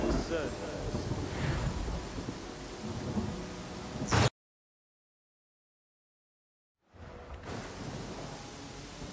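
Steady rain hiss with low rumbling thunder in the video game Pathfinder: Kingmaker, cut off by a few seconds of total silence before the downpour resumes.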